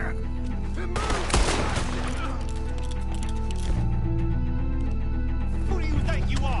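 Gunfire rings out in the Western video game Red Dead Redemption: a sharp burst of shots, then scattered further cracks under a steady music bed and low voices.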